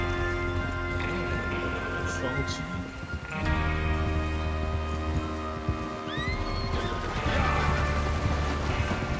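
Horses neighing and whinnying with clip-clop hoofbeats in a Western train-robbery video game, layered over a dense, continuous backdrop of music and ambience, with voices speaking at points.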